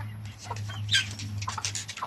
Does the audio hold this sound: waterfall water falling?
no